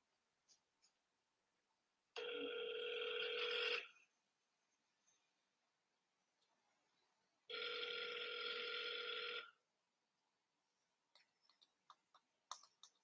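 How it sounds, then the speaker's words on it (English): Phone ringing while waiting for an answer: two long electronic rings spaced several seconds apart, loud and clear against near silence, followed by a few faint clicks and taps. "Just answer the goddamn phone."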